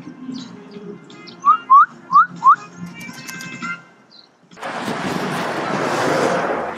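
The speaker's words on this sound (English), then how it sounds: "I'm whistling at them like they dogs or something." A person whistles to call baby chicks on a rural farm in Korea with four short, sharp upward whistles in quick succession, followed by a gust of wind or rustling noise.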